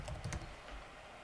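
Typing on a computer keyboard while entering a database status value: a brief burst of several quick, close key clacks at the start, then quiet room tone.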